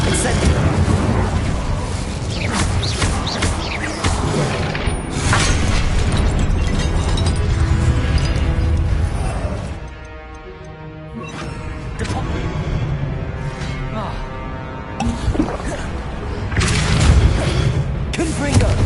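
An Incendio fire spell cast in Hogwarts Legacy roars as a dense, loud fiery blast with rumbling booms, eases briefly mid-way and then surges again amid continuous game effects, with a voice over the top.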